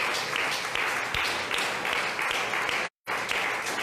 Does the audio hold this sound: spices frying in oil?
no